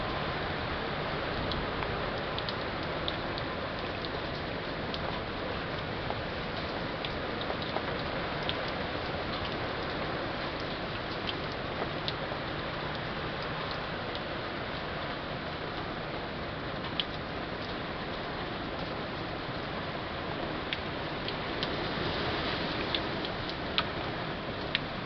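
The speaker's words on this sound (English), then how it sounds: "pissing down the rain like it's bound to do." Heavy rain pours steadily at night in St. Petersburg during Hurricane Irma, a dense, continuous hiss with scattered ticking drops close by, unbroken for the whole stretch.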